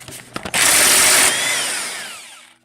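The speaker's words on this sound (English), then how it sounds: "We got the impact, so we're going to give her a try." An impact wrench spins out an 18 mm trailer-hitch bolt on a 2012 VW Golf TDI, a few short clicks followed by a loud, close, sustained rattling burst that lasts under a second before the motor winds down.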